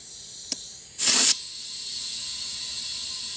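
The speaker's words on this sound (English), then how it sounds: "is you're going to pump up your tire again." Air hisses in a single loud, close burst lasting about a third of a second as a plugged, leaky tire is pumped back up, after a small click and before a faint steady hiss that carries on to the end.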